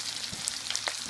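A snapper fillet fries in browning, nutty butter, giving a soft, steady sizzle with a few faint crackles over a short moment, no voices.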